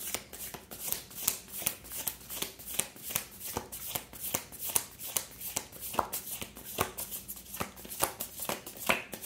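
Tarot cards are shuffled repeatedly close up, a steady rhythm of riffling bursts and soft slaps continuing throughout with no voice.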